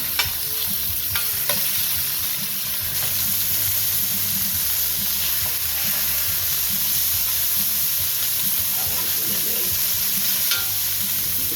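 Chicken frying in a hot pan gives a steady, close sizzle and hiss, with occasional stirring and scraping noises over it.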